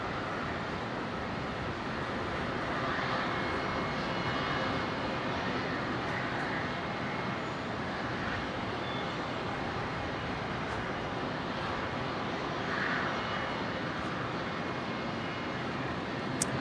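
A Q400 turboprop crossing over an airport airfield at Brisbane, a distant, steady broadband engine drone that swells slightly and holds throughout.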